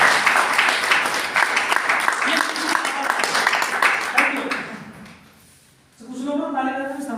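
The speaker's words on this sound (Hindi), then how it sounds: "कुछ लोग ताली बजाते हैं" An audience at a business meeting applauds, a dense rush of many hands clapping that continues for several seconds, then fades away as a voice begins speaking.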